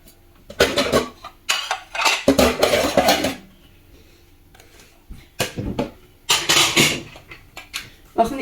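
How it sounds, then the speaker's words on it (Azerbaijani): Dishes and spoons are gathered up, clattering in quick, loud bursts separated by short pauses. "Qabları ki götürsən, qaşıqlar ki dağılır ha. Ən zəhləm gedən hissəsidir o daqqatırıq səsi."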